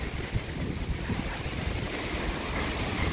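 A waterfall roars as a steady, dense broadband rush of water heard outdoors, with wind buffeting the microphone and no talking.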